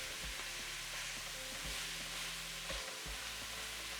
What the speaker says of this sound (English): Then I add my lamb and start breaking it up with my wooden spatula.